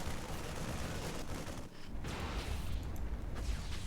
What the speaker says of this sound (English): But the Marines are still shooting their guns.